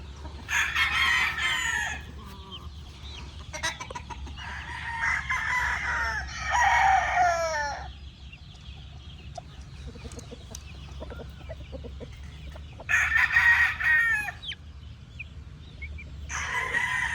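A rooster crows loudly several times, long drawn-out calls separated by pauses, with softer clucking and quieter bird sounds in between.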